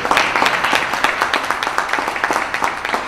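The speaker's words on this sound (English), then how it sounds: "Rick and Aaron, can we give them a round of applause for it?" Crowd applause at an Opportunity Zone conference afternoon session, a roomful of people clapping briskly with crisp individual claps audible, loud and close for about three seconds, without voices over it.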